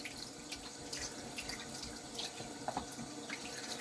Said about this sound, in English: Okay, that's your 3K done. Wash it off.